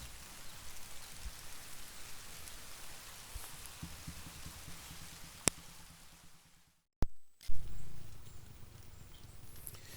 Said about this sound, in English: looks like the rain is slowing down